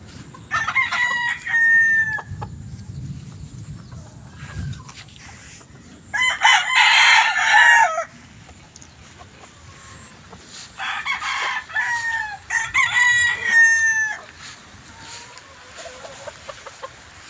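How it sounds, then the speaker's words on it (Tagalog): Roosters at a gamecock farm crow several times and cluck. The calls come at moderate distance over a quiet outdoor background, with one louder, denser burst midway. "Daming manok kaya na pansabong."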